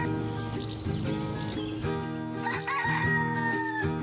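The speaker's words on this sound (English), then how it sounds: "A rooster is a daddy chicken. There's a rooster." A rooster crows on a farm, a single drawn-out cock-a-doodle-doo rising over steady harmonic background music.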